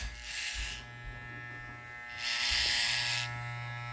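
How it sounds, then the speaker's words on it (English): Andis GTX hair trimmers run with a steady electric buzz, swelling louder in two bursts where a loose internal piece rattles, heard close with no talking. "I think I found out what the rattling noise was with these clippers"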